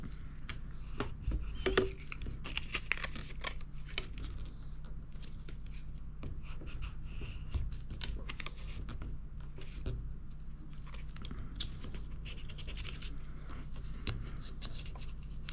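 Paper being creased by hand to mark a fold while making a small vintage-style handmade book, heard as soft, close scratchy rubs and light taps repeating steadily against a quiet background hum, with no talking.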